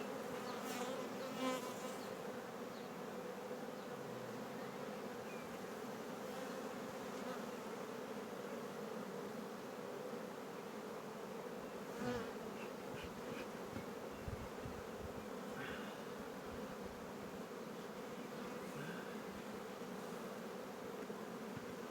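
A dense, steady buzzing of many honeybees close by at a hive, continuous and even throughout with no voices.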